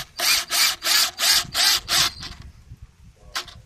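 A power drill drives a screw into the wooden backrest of a handmade bench in six even, loud bursts of whirring, followed by a quiet pause and a short final burst.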